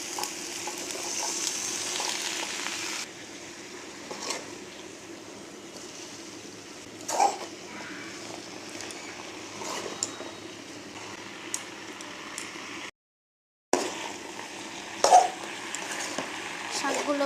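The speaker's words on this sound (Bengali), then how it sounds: "শাকগুলো ভালো করে মশলার সাথে মেশাতে হবে" Malabar spinach stirred and fried with spices in a pan for a curry with dried prawns, giving a steady close sizzle broken by soft scraping stirs, a louder start easing down, and a brief silent gap near the end.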